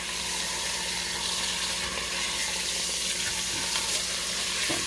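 Meat for birria tacos sears in a hot pan, a loud, dense, steady sizzle and crackle close to the listener, with no speech over it.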